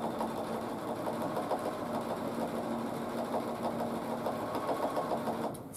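A sewing machine runs steadily while doing free-motion couching on fabric, a close, continuous rapid mechanical whir with a fast stitching pulse, stopping abruptly at the end.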